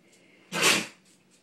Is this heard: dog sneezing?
yes